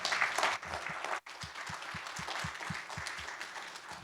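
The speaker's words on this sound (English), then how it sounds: "a round of applause to our panelists" An audience at a startup night panel event claps for a moment before the sound cuts briefly, then the applause resumes, steady and moderately loud, with individual claps audible.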